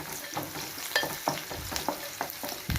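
Tempering spices fry in hot oil for a spinach dish, a soft crackling sizzle broken by several sharp stirring scrapes and pops in an otherwise quiet kitchen.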